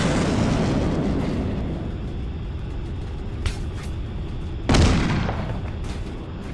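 An aircraft crashing in the Nuclear Option combat flight game: a steady roaring rumble of flight, then a sharp loud explosive burst near the end that decays into the continuing drone.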